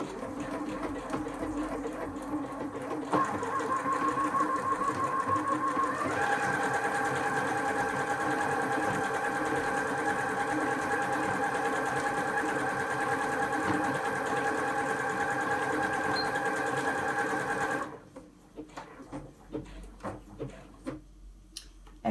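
A Janome M200 sewing machine running without a pedal at a set speed, sewing decorative stitches in a steady fast whirring hum for about fifteen seconds, then stopping, followed by a few small clicks, likely from the thread cutter.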